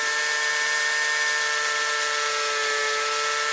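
A thin wire bit spun by a small drill bores gently through a handmade long wooden pipe stem: a constant, close, shrill whine with steady tones, heard alone without talk.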